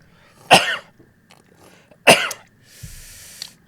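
A man coughing twice while drinking bitter Manggarai coffee, two sharp close coughs about one and a half seconds apart, followed by a faint soft noise.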